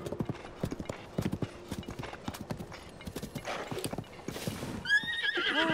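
A horse in The Legend of Zelda: Tears of the Kingdom trots with rapid, rhythmic hoof clip-clops, then gives a loud rising whinny near the end, close and clear.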